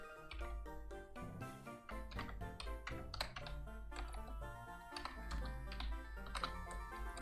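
Computer keyboard typing during a video game session, quick irregular key clicks over a low backing music bed, close and fairly quiet.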